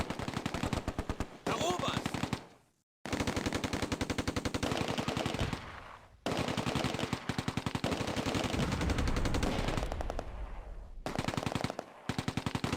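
Dense machine-gun and rifle fire rattles almost continuously in a Close Combat World War II battle at the Oosterbeek cauldron, with rapid bursts broken by a few brief silences and heavier booms late in the sequence.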